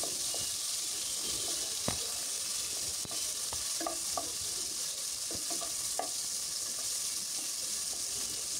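Chicken pieces fry in a pan until browned, giving a steady close sizzle with scattered crackles and light stirring clicks throughout, no voices.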